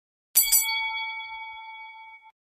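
A single bright notification bell ding, struck once with a quick double attack, then ringing out cleanly for nearly two seconds before cutting off, alone and clear.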